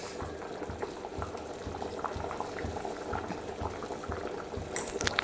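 Rice simmering in a pot for tomato pulav: a soft, steady bubbling with a rhythmic pulse of bursting bubbles, close and quiet, then a brief clatter at the end.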